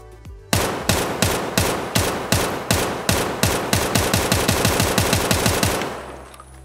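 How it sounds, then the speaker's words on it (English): SA-58 rifle in Escape From Tarkov firing a steady run of about twenty single shots in quick, even succession, each crack loud and close with a short ringing tail, ending in a brief fade. "So I'm gonna show it to you in single fire first"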